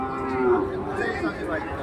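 A cow moos repeatedly at a rural cattle market in Raniganj, Ghoraghat, where heifer calves are being sold. The lowing is close, loud and drawn out, and it continues for the whole short stretch.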